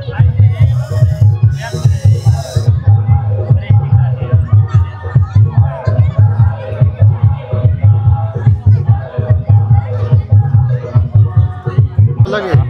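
Crowd babble fills the entrance of the Dapoli Mahotsav 2025 festival fair, where toy stalls line the way. Someone talks loudly and steadily over the busy, continuous hubbub.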